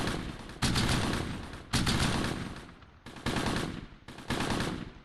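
Bursts of gunfire in Close Combat: Gateway to Caen, a WWII Normandy battle, with four loud sustained volleys of rapid automatic fire separated by brief lulls, each fading before the next, and no talk.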